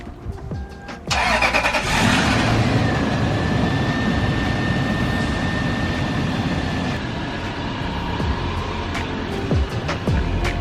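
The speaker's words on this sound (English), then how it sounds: "warm up the car." A Toyota Land Cruiser engine cranks and catches about a second in, then settles into a steady, close idle with a low rumble and a faint whine, running alone without talk.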